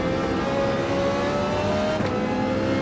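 A steady race car engine in a video game drones loudly at high revs throughout, with a slight pitch shift near the end and no talking.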